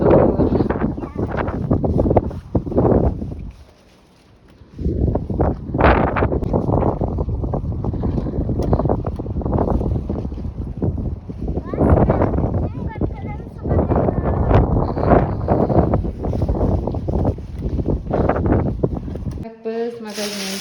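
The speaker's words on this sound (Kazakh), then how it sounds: "Ала қатты жел болды." Strong wind buffets the microphone outdoors at a playground, a loud, continuous low roar with a brief lull partway through.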